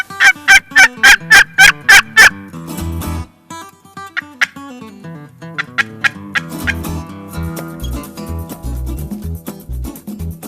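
A wild turkey tom gobbles outdoors in a rapid, rattling burst, followed by softer clucks and further gobbling calls, loud and close with no talk.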